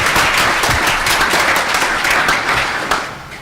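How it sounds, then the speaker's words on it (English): Steady audience applause fills the room at a leadership conference panel, a dense wash of clapping that holds loud and then starts to taper off near the end. "Please give her a round of applause."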